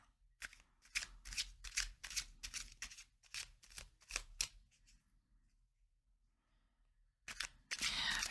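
Tarot cards are shuffled by hand in quick riffling bursts, crisp papery flutters up close, then a pause of near silence before a final brief shuffle.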